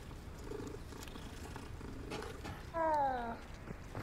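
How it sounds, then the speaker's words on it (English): A cat in the video game Hogwarts Legacy gives a low purring rumble, then a short rising meow-like cry near the end, over faint background game ambience. "It's a cat?"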